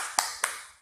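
Two sharp hand claps, evenly spaced, ring out close and bright in a children's clapping game about a tree, each with a quick fading tail.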